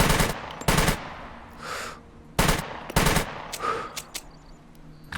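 Rifle fire from the survival video game SCUM, loud bursts of automatic shots in quick groups separated by short gaps, with fainter distant echoes between them and no talking.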